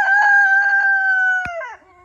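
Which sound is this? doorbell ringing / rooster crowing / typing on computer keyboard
rooster crowing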